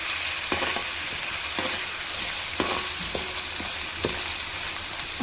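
Ginger garlic paste frying in oil for mutton curry, a close, steady hiss with repeated scraping knocks from a spoon being stirred through the pan.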